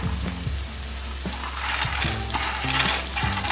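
Peanuts hit hot oil with browned, reddish onions for chivda and sizzle steadily in the pan, with stirring and scraping sounds close by.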